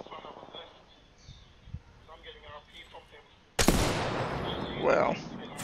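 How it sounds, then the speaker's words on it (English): A single loud charge rifle blast from Apex Legends erupts sharply after quieter in-game sound and speech, followed by a lingering energy hum and decay. "That charge rifle gonna get you."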